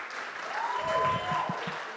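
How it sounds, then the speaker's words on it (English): An audience at a poetry slam in Gainesville, Florida claps for poets advancing to the second round, a soft, steady wash of applause at a distance, with a faint tonal hum and low thumps under it. "you can clap for these poets"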